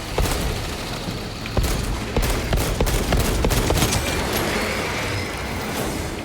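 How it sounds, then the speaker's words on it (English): Rapid heavy bolt pistol fire in Space Marine II, a dense run of loud, sharp repeated shots over a constant roar of battle noise, with no talk. "I need to use this heavy bolt pistol"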